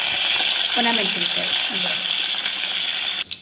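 Mustard seeds, cumin, curry leaves and dry red chilies sizzle and crackle in hot ghee for a tempering, a steady frying hiss under a speaking voice, ending with a brief metallic clank.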